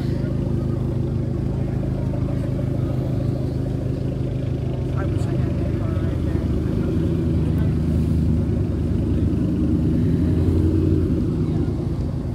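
Subaru engine rumbling steadily at a tuner car meet, a continuous low, loud drone with background chatter from people nearby throughout.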